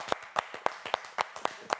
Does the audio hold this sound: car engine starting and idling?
no